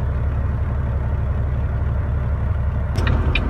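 A truck idles and rumbles low and steady in the cab, heard from inside as it pulls in to a loading site to unload, with a few brief clicks and rattles near the end.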